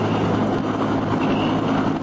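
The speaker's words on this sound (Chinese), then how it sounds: "这是直升机的螺旋桨，" A helicopter's propeller produces a loud, dense, rumbling roar that stays constant throughout and fades only at the very end, with no talking.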